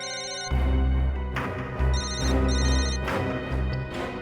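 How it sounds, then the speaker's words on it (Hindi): A phone rings close by at the scene where a body lies, its electronic bell-like ringing repeating in steady bursts for the whole stretch, loud and with no other sound over it. "1 मिनट, रिंग यहीं पर बज रही है कहीं।"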